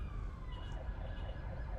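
A city emergency vehicle's siren wails faintly in the distance, a thin steady tone over low background rumble.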